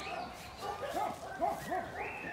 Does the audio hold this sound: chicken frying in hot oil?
no